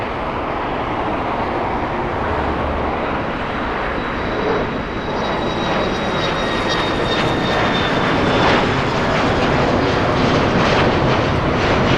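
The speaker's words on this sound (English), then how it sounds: "I highly doubt that one will be able to take off on the shortest runway, 24 right." Jet airplane taking off at LAX airport, a loud continuous engine roar that holds steady and close throughout, with no talk.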